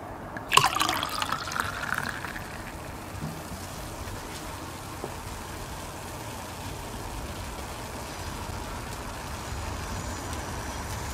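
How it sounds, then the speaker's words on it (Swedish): Liquid poured into a container during a bubble-lab experiment, a brief splashing onset followed by a steady, moderately loud stream-like fill with no talking. "Kan jag hälla på lite till kanske?"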